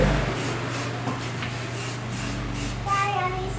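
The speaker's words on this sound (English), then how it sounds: "Put the enamel on it." Enamel clear coat hisses steadily from a spray can onto a handmade memory game box, a continuous close spraying sound with faint pulsing bursts over a low background hum.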